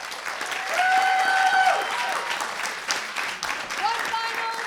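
Audience applause after a high school choral reading performance, steady and fairly loud clapping with a few voices and whoops rising over it.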